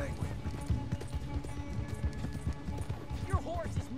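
A horse gallops in a race in the Red Dead Redemption 2 video game, its hoofbeats pounding in a steady rapid rhythm under ongoing talk, with a faint whinny near the end.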